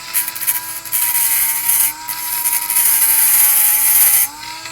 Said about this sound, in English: take your Dremel and just kind of slowly and gently, I mean, I'm barely touching it, just enough to kind of spin it